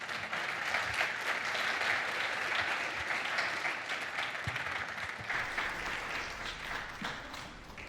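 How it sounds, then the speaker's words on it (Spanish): Sustained applause fills a workshop hall as the audience claps steadily for several seconds, dense and even, fading a little near the end. "Un aplauso, por favor."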